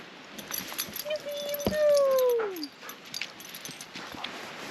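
A dog lets out a rising then falling whimpering whine at the edge of a lakeside autumn campsite on Lake Huron, heard over steady outdoor background noise.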